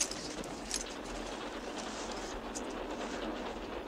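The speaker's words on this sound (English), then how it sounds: "So the train will be pulling into Philadelphia soon." A passenger train heading toward Philadelphia rolls along steadily, its rushing rumble and faint clickety rail noise filling the scene evenly at moderate loudness, with no talk.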